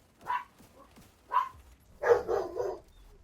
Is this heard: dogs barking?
yes